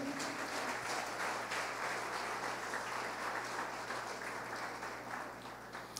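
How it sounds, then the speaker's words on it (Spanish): A church congregation in Barinas, Venezuela, claps in a sustained, faint, distant wash of applause over a low steady hum. "puede darle un fuerte aplauso al Señor"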